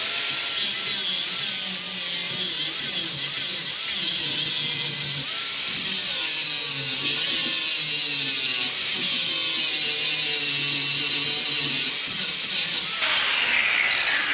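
Power tool buffing out the lower ball joint rivets on a 1966 Galaxie 500 during a drum-to-disc brake conversion, a loud, continuous high-pitched whine and grind with shifting pitch, running close up and alone before cutting off near the end.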